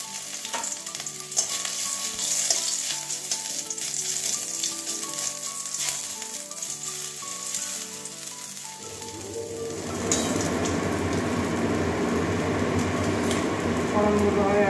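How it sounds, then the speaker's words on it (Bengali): Dried red chilli and crushed ginger hit hot oil as a tempering for Bengali papaya chutney, a quiet stretch over soft tonal background giving way to a loud, continuous close sizzle. "তেল গরম হয়ে গেছে, এটা একটা শুকনো লঙ্কা ভেঙে দিচ্ছি ফোড়নে।"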